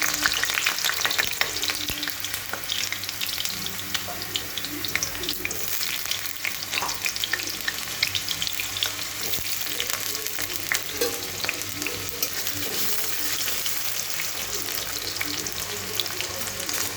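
Small cut potato pieces fry in hot oil in a kadai, giving a loud, steady sizzle that runs unbroken, with occasional clinks and stirring scrapes mixed in.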